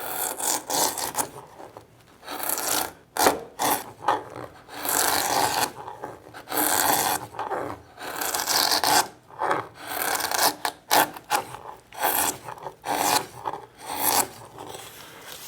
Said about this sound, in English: when you're using this kind of lovely gouge, you start out taking the cut you want